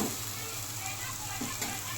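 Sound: mint leaves frying in oil

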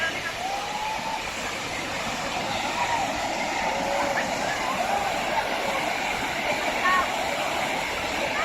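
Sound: Wang Takrai waterfall

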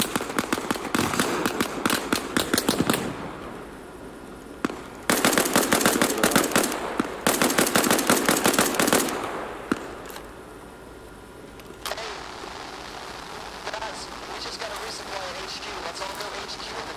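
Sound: gunfire in a military video game

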